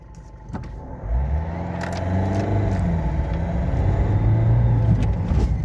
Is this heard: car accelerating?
yes